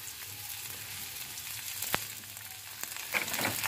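A rice flour roti sizzles in oil on a hot griddle, a steady soft frying hiss broken by a few sharp crackles and pops, heard close and without talk.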